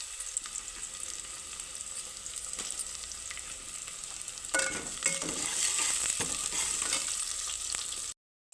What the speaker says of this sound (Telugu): ఇప్పుడైతే పల్లీలు వేద్దాం.